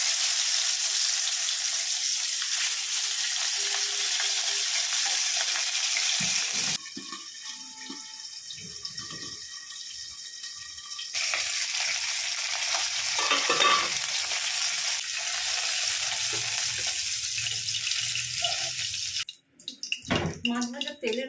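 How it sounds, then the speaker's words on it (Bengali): Pomfret fish frying in mustard oil gives a steady, loud sizzle that breaks off briefly for quieter kitchen clatter and then returns strong before ending in scattered knocks. "আমি একটা একটা করে মাছ ভেজে নেব।"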